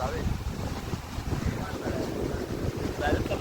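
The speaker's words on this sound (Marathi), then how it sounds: "हवा बघ कसली येते" Strong wind buffets the microphone at a beach in Goa, a steady, loud, broadband rumble with gusts that swell and ease throughout, with no clear voices.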